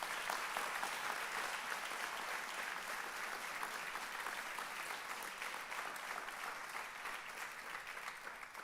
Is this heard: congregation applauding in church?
yes